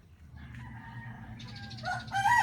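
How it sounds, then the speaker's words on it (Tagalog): A rooster crows loudly nearby, its call rising and stretching out over a steady low rumble of background noise. "May manok dito"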